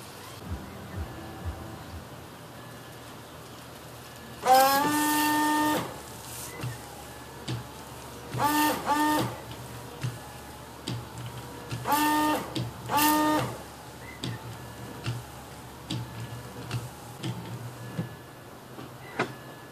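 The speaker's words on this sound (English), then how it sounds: "See how the wipers work." Windshield wipers and washer on a 2006 BMW 325i, several distinct sweeps with squeaking, whirring pulses at irregular intervals over a quiet background, close by, no talk.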